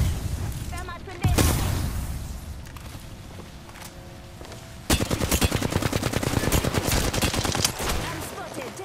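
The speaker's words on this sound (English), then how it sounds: "Throwing thermite grenade." A thermite grenade thrown during a firefight in the Apex Legends video game, where loud bursts of automatic gunfire and sharp blasts crowd around a rising fiery roar, with dense rapid shots dominating the second half.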